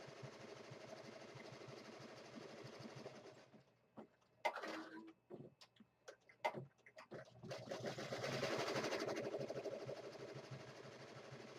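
An embroidery machine stitches a satin stitch onto an appliqué sweater, its rapid mechanical patter steady at first, broken by scattered clicks and knocks, then resuming as a dense continuous whir.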